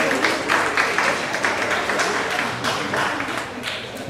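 Audience applause at an evening forum on Islamic law in Malaysia: steady, dense clapping from a sizeable crowd, sustained at an even level for the whole stretch with no break.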